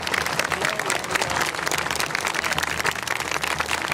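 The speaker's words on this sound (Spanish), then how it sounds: "un fuerte aplauso para la Santísima Madre del Cielo" A church congregation applauds in dense, continuous clapping, steady and fairly close, with faint voices mixed in.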